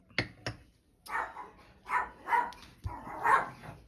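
A dog barks outside a home, starting with two sharp yips and then several longer, louder barks in a loose rhythm that sound moderately close.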